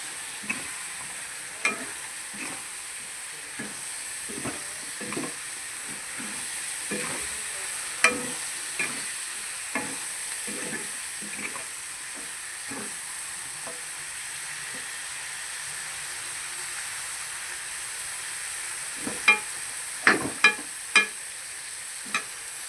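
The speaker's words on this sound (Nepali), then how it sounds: "यति चलाउनु पर्छ।" Chicken fries in a pan with ginger, garlic, chili, cumin powder and garam masala. It gives a steady sizzling hiss, with repeated scraping stirs of the spoon throughout and a louder cluster of clanks near the end, and no one speaks.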